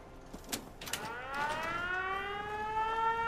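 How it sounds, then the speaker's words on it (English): An alarm siren in Fallout 4, sounded at a settlement security door, rising in pitch with a wailing tone after a few clicks, growing steady and loud to the end. "I can sound the alarm."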